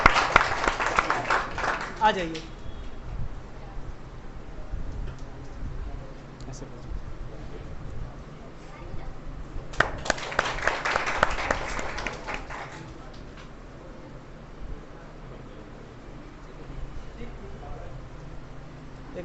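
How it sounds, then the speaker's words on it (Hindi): An audience applauds a student at a physics quiz in two bursts of clapping, one at the start and a louder one mid-way, separated by quieter stretches where someone speaks. "जोरदार ताली बजाया जाए बच्चे का।"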